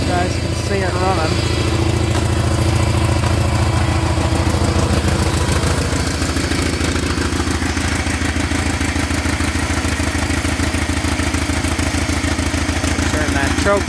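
A Bolens garden tractor engine runs steadily just after a cold start, a loud, continuous low idle with rhythmic clatter that holds close throughout, while a voice talks over it.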